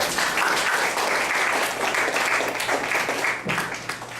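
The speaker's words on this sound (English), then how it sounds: "Please give them one last round of applause." An audience applauds after a debate on free trade, a dense, loud burst of clapping that holds steady for a few seconds and then begins to thin out.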